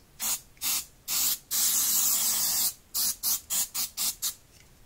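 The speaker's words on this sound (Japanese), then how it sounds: "いつものスプレーのり、" Spray adhesive hissing from an aerosol can onto a leather craft paper template: three short bursts, one long steady spray of over a second, then six quick rhythmic puffs, all close and loud with no talking.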